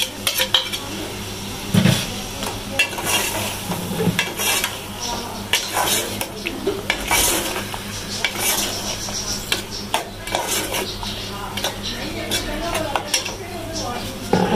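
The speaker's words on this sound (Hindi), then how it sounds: "मसाले के साथ ही टमाटर भी डालेंगे," Tomatoes and green chillies frying with spices in a pan, with frequent metal utensil clinks and scraping stirs over a soft sizzle, close up and fairly loud throughout.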